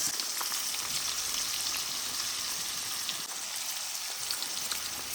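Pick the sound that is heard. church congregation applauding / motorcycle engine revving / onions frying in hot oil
onions frying in hot oil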